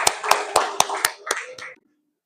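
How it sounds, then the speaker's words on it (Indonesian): Schoolchildren in an Indonesian classroom clap in unison for their classmates, about seven sharp, evenly spaced claps over a murmur of voices before the room goes quiet. "Beri tepuk tangan dulu untuk kawannya."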